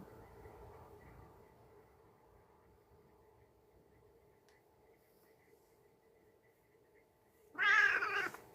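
A pet cat named Smudge gives a sudden, loud meow near the end, following several seconds of a quiet room with a low steady hum.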